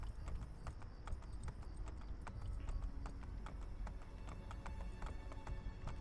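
Rapid, regular clip-clop of horse hooves trotting in Assassin's Creed Brotherhood, crisp and continuous, with a faint synthetic game-like ambience underneath.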